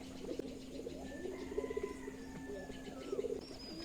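Giribaz and local pigeons coo softly inside a loft, with a couple of short bubbling coo phrases rising over a steady background hum and faint ambient noise.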